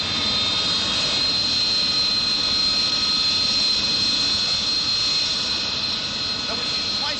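Engines of a Europa jet vertical take-off aircraft lifting off, giving a loud, steady, high-pitched jet whine with a constant roar that fills the whole stretch, with someone speaking over it.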